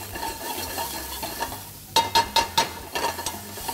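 Pork and mushrooms stir-frying in oil in a pan, a soft sizzle underneath a run of close, sharp scraping stirs in quick rhythm in the second half, with no talk.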